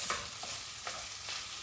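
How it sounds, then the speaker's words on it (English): A spatula stirs eggs into rice and vegetables frying in a pan, making a few scraping strokes over a steady sizzle, close and with no talking. "I've chucked the eggs in there and I'm just gonna stir it in"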